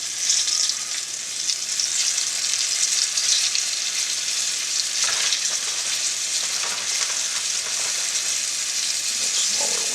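Flour-dredged cube steak fries in a cast iron skillet with a constant, bright, hissing sizzle, close and fairly loud, with occasional soft bumps and shifts partway through and no voices.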